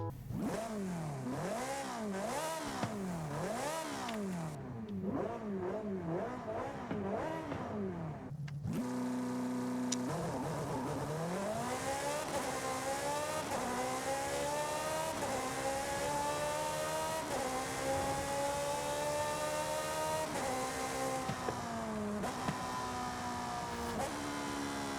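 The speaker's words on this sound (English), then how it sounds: "This has the naturally aspirated, flat plane crank, Ferrari V8." Ferrari 458 Italia with a naturally aspirated flat-plane-crank V8 in the video game Forza Horizon 5, loud high-pitched revving that climbs through repeated quick gear shifts, then a long wailing acceleration with rising and falling pitch sweeps.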